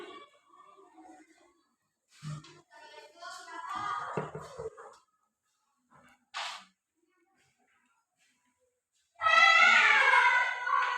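Children's voices imitate a cat's meow during a classroom activity, with several short, scattered cries followed by a louder, sustained meowing call near the end.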